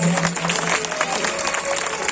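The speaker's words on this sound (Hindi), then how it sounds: "मेरे लिए एक बार आशीर्वाद स्वरूप ताली बजा जाए" Audience clapping at a school gathering in India, a steady wash of applause from a crowd with no pauses, fairly loud and close, lasting a couple of seconds.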